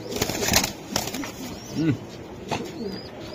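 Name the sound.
pigeon released, flapping wings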